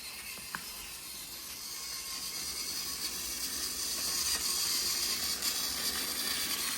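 A motorized TOMY Gordon toy tender engine running along a plastic track on carpet, a steady whirring mechanical hum with faint rhythmic clicking that grows slightly louder, no talking.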